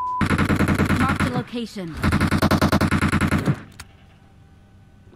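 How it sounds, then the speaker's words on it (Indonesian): Rapid automatic gunfire from the PUBG Mobile battle game, loud and close, with dense bursts of shots broken by a short pause and ending abruptly into quiet, while a player speaks briefly. "Ini nembak yang asli ya."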